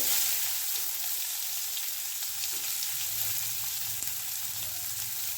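Asafoetida and chopped onion frying in a pan, a steady close sizzle with faint crackle throughout, no voices.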